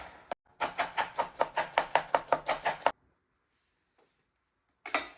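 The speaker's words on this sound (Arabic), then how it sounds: "عندنا بصلتين بدنا نقسمهم جوليان" A knife chops two onions into julienne strips on a board, about a dozen crisp, evenly spaced cuts in quick rhythm, close and clear, then a pause and one more short burst.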